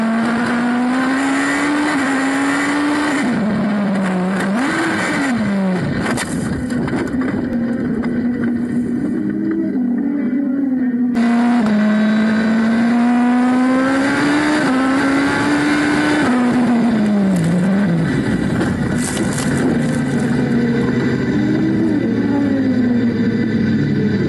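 Race cars circle a motorsport track, a loud sustained engine drone that climbs and dips as cars accelerate and pass, with a brief cut mid-way and a continuous high whine throughout.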